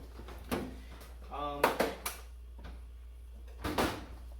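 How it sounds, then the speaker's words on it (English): A Japanese manual impact driver is struck with a hammer to free a stubborn screw during a Go Devil engine repair: a few sharp, fairly quiet knocks spaced out over a few seconds, with a brief voice-like sound in between. "We're going to get her out here and give this a little bit of a whack"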